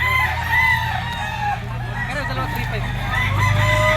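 Several gamecock stags crow at a busy pet market, overlapping calls rising from a constant crowd murmur and low hum, with clucking mixed in.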